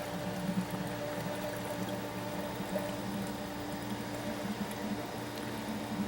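Water being poured into a flush cart while flushing a Carrier/Bryant integrated variable-speed water flow control system, a steady churning, bubbling pour over a low mechanical pump hum.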